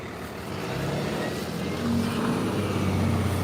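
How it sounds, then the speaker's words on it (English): A big school bus rumbles past on a street, its low engine drone swelling steadily and staying loud near the listener while walking outdoors. "Big school bus going by."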